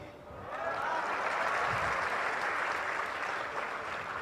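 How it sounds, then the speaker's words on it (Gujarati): A festival crowd at a religious gathering claps steadily, a dense, even wash of applause that swells in over the first half-second and holds at a fairly loud level throughout, with no clear talk. "હવે તાળી ઓછી વાગી"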